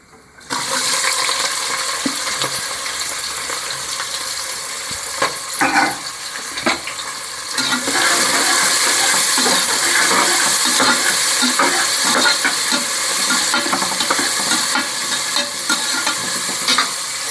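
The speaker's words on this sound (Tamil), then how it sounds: "வெங்காயம் வதங்கி வரத்துக்கு தேவையான உப்பு போட்டு கலரி விட்டுக்கலாம்" Onions frying in hot oil with whole spices such as cinnamon and cloves, cooked in a pan for mint rice: a loud, close, continuous sizzle with occasional scrapes of stirring.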